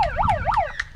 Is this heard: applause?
no